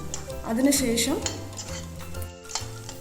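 Curry leaves frying with onion in coconut oil for a Kerala chickpea curry, with a soft steady sizzle under the clatter of a spoon stirring and scraping the pan, close and fairly loud throughout.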